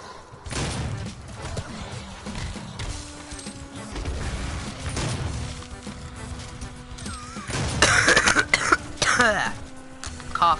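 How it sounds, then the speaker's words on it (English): A single throaty cough breaks out amid a busy, cluttered background of thumps and clatter, with a voice present in the mix. "Cough."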